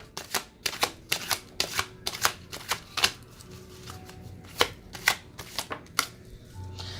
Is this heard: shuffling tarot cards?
yes